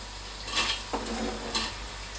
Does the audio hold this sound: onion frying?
yes